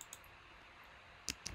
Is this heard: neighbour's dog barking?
no